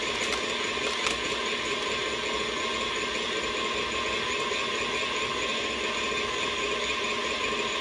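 An electric stand mixer whirs steadily while beating a marionberry buttercream frosting made with egg whites, powdered sugar and butter, a constant mechanical hum with a faint rattle and no talk.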